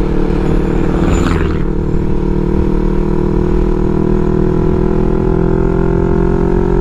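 A Yamaha R3 V2 sport motorcycle on a ride in the Philippines, its engine droning loudly and steadily throughout with constant wind rush and no talk.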